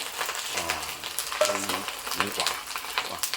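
Dried shrimp and dried scallop fry in oil with a steady hissing sizzle and scraping stirs, while someone talks over the cooking.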